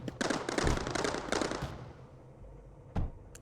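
Rapid bursts of turret fire in the factory-building strategy game Mindustry, a dense rattling volley for the first second and a half, then quieter, with one last sharp shot near the end.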